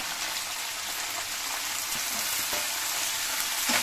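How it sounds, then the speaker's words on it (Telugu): Masala fries in plenty of hot oil for a Coimbatore-style chicken gravy, a dense, steady sizzle that continues throughout with faint scraping stirs near the end. "దీంట్లో నూనె దండి వేసుకున్నాం కదా దాంట్లో వేసి బాగా అంత వేయించాలండి"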